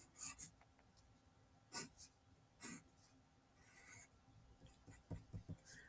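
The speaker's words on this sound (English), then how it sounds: "So let's draw a cylinder." Pen drawing a cylinder on paper, faint scratchy strokes in short bursts with quiet pauses between them, no talking.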